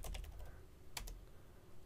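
Someone types a short ipconfig command on a computer keyboard. Faint, close key clicks come in a quick cluster at the start and a brief pair of taps follows after a pause.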